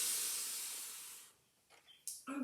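A slow, deep breath drawn in during a relaxation exercise, a soft steady airy hiss that fades out, followed by a few faint small noises.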